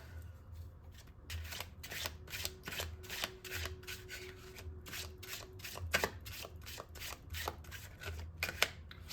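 Tarot cards are shuffled over and over in quick riffling bursts, close and fairly soft, with no talking.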